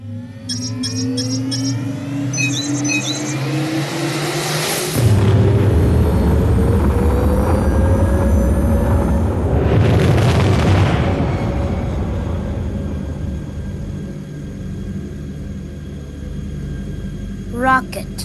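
Rocket launch in a kids' alphabet learning game: a rising whoosh builds into a loud rumbling roar that swells twice and slowly fades, with short chime-like effects at the start and end.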